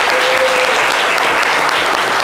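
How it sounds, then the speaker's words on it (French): A studio audience on a French-language midday talk show applauds the arrival of Shekina. Loud, dense clapping stays constant for over two seconds, close and full, with a brief steady tone at the beginning. "applaudissements pour Shekina, s'il vous plaît"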